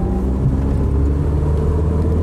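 A Renault 21 GTS with a 1980s carburettor pulls at low revs from inside the cabin, giving a steady, loud low engine drone with a faint unevenness, no speech over it.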